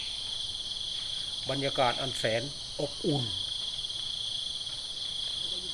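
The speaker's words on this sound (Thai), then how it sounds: "เสียงจิ้งหรีดร้อง" Crickets chirp in a continuous high-pitched drone on a morning while someone speaks briefly in Thai over it.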